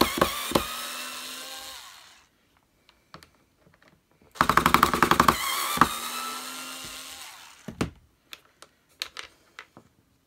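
Screws being driven out of the plastic motor casing of a 2000 Samsung Wide Clean vacuum cleaner, with bursts of rapid ratcheting whir from a close-up driver separated by pauses and small clicks.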